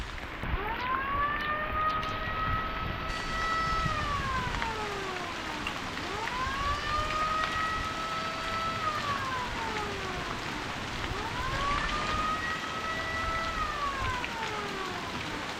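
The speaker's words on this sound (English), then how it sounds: "if you want one of these air raid sirens on your vehicle" An air raid siren mounted on a Suzuki Samurai wails in repeated rising and falling cycles from about 150 feet away, loud and steady over the constant hiss of heavy rain pouring down.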